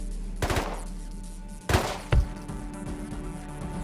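Gunfire in a video game shooting into a chain-link base, a few loud bursts of shots spaced apart, close and sharp over a low background hum.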